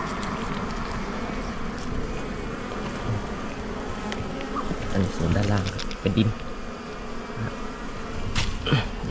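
A swarm of bees drones steadily around an old underground cavity nest being dug out of the earth, a continuous close buzzing with occasional nearer passes, plus faint scraping and brief voices at times.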